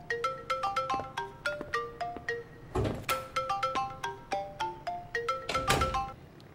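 A telephone ringtone plays a repeating electronic melody of bright beeping notes in quick phrases, with a couple of dull knocks mixed in, fairly quiet indoors.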